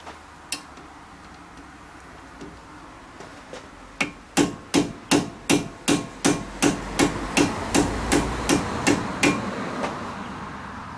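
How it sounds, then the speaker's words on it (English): A hammer strikes a brake disc on a Honda Civic Mk8, first a few scattered blows, then a fast, even run of about a dozen loud ringing metallic strikes. "I think we're going to need a bigger hammer."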